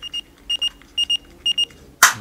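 A yellow and pink toy landline phone gives paired electronic beeps in a steady repeating rhythm, four short double-beeps close by, ending in a louder, sharper burst of sound.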